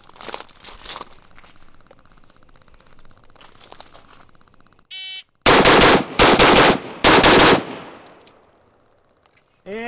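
Rapid rifle fire from an AR-15 style duty carbine during a 9-shot drill: loud, close bursts of sharp shots in quick strings after a quieter stretch of ambient noise and handling sounds.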